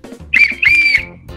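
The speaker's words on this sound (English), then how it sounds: "Whistle can call attention for help if you are in trouble." A safety whistle is blown in two short, shrill blasts, the second held slightly longer, loud and close with no talk over it.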